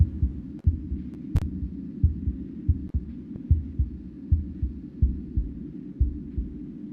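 A synthetic heartbeat loop from a video game pulses steadily in soft, low double thumps, repeating about twice per second and growing quicker, heard alone with no talk.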